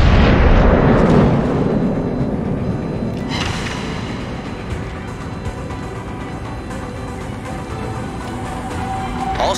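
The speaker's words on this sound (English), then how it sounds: "Enemy destroyer blown up." An enemy destroyer blowing up in a naval warship video game, a loud sustained explosive roar and rumble that fades slowly, with a sharper burst partway through.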